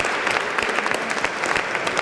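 A dense, steady round of clapping from a crowd at a hackathon prize-giving, sustained and fairly loud throughout.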